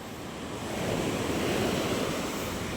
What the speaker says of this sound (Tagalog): Sa lalaki ng alon dito sa Cavite mga kamay.